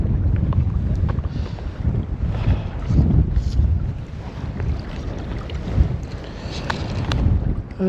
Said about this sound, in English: It's a fair wind, as they say.